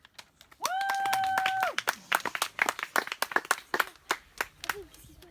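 An audience claps in a sustained, uneven burst with sharp individual hand claps, near and loud. A long tonal whistle-like sound cuts in early, and there is a little crowd noise.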